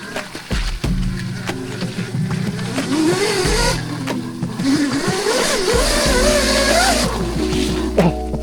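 A 16kW electric motorbike's rear wheel spins in deep mud, its motor whine rising and falling in pitch over churning, slapping mud noise, loud and close.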